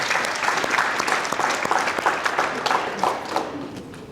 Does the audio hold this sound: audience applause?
yes